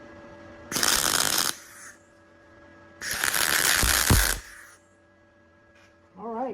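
An aluminum spool gun lays tack welds in two crackling, sputtering bursts of about a second each, loud and close, separated by quiet hum.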